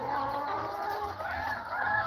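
Poultry vocalizing in a farmyard where 45-day broiler chickens are raised near native birds, a continuous layered mix of clucks and honk-like calls, steady and fairly close throughout.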